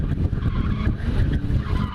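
A car drifts with its tires skidding and squealing in a continuous rough, scrubbing sound over the engine, rising and falling in surges at close range.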